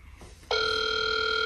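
A telephone begins ringing half a second in, its bright, steady electronic tone sounding clearly against a low background hum.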